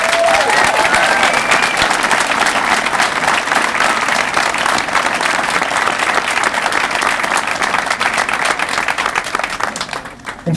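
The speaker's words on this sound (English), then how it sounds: "Please give them a round of applause." A crowd gives loud, sustained applause for custodial staff at a middle school ribbon-cutting ceremony. The dense, even clapping lasts about ten seconds before fading quickly at the end.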